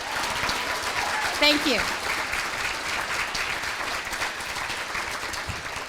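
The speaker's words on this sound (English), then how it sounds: "Now let's do a really big clap." Audience applause from a crowd at a community forum on transitional kindergarten, a steady wash of clapping lasting throughout, with a brief spoken thank-you near the middle.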